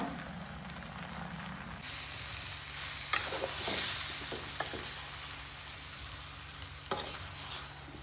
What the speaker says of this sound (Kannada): ಇನ್ನು ಇದನ್ನು ಮಿಕ್ಸ್ ಮಾಡ್ತಾ ಮಾಡ್ತಾ ಮಾಡ್ತಾ